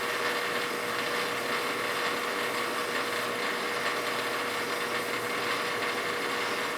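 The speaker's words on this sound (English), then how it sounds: "I want to get the best possible surface finish, so higher spindle speed, and I'm going to feed nice and slow." A metal lathe at high spindle speed takes a slow, even finishing cut, giving a constant dense whir with a thin steady tone that never changes.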